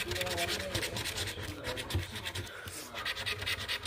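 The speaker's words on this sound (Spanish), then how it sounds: "mi mamá fue a comprarme otro ticket de estos. Ahorita lo voy a raspar." A scratch-off lottery ticket being scraped, giving repeated close, dry rasping strokes in short bursts throughout.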